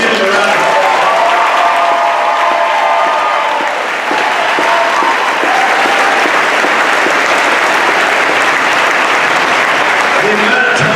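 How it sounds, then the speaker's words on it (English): A crowd at a state football championship celebration applauds loudly and continuously, dense clapping mixed with cheering voices that fills the room for about ten seconds. "Let's give them a round of applause."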